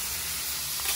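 Carne asada taco meat cooking on a griddle at a child's birthday party, a steady close sizzling hiss throughout a brief moment, no speech.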